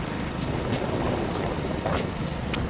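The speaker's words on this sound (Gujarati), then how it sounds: "આપણું બાઇક ચાલુ છે પવનનો અવાજ આવતો હશે" Loud, steady wind rumble buffeting the microphone while riding a motorbike near Maneknath, a tourist place in Gujarat, constant and close with no pauses.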